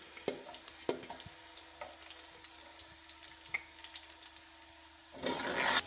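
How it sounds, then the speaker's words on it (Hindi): Sliced small onions frying in a pan, a low continuous sizzle with scattered clicks and utensil knocks, rising into a louder hiss near the end. "इसमें हम डाल देते हैं ये 2 प्याज, छोटे छोटे थे तो मैंने इसको काट लिया स्लाइस में। इसे फ्राई करते हैं।"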